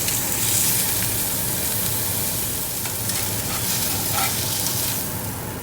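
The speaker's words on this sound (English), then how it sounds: "We'll add a little bit of olive oil, and we should be hearing a nice sizzle." Steady, loud hissing and crackling of steak searing in olive oil in a hot pan, continuous and close, with a slight rise and fall.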